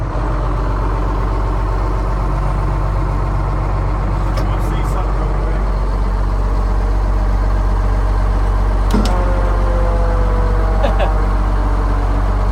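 A retired fire truck's engine idles after cranking up, a loud, steady, low rumble close by, with brief sharp clanks over it.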